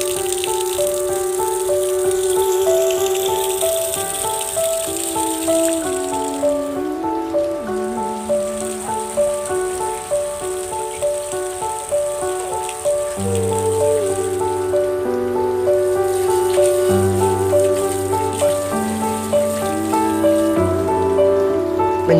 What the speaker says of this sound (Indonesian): Mencuci tangan dengan sabun dan air mengalir.